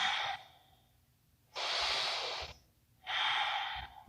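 Deep breaths during a power vinyasa yoga pose: three slow, airy breaths, each about a second long, separated by quiet pauses, close to the listener and unaccompanied by speech.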